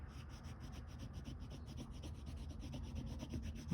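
A small burnishing tool rubs steadily over a carved wooden spoon, making a soft, continuous scratchy friction sound with faint rhythmic strokes, close and quiet with no talking.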